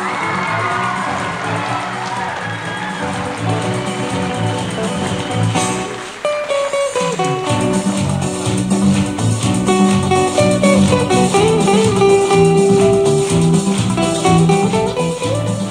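Guests at a Vietnamese village wedding in Văn Nghĩa commune burst into cheering and applause over loud festive music, a lively crowd roar that swells after a brief dip.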